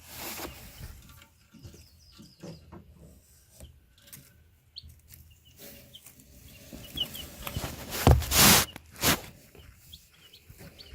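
Meat chickens cluck softly and intermittently nearby on a homestead in the morning, with scattered shuffling and a louder burst of noise toward the end.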